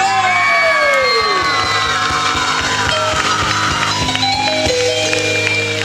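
Large concert crowd cheering and shouting continuously at a Bosnian pop show in Kalesija, loud and dense with whoops and yells over a steady musical drone.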